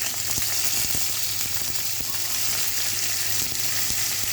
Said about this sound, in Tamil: கருவேப்பிலை எல்லாத்தையும் போட்டு நல்லா வதக்கிடணும்